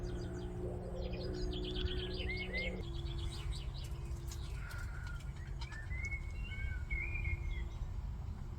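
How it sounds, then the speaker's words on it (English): Morning birdsong outdoors in summer: chirps and short whistled phrases from several birds, with a dove cooing, fairly faint against steady background hum. "Can you hear the birds?"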